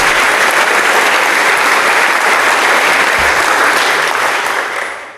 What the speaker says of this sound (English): I would ask you to make an applause to all the authors of these papers.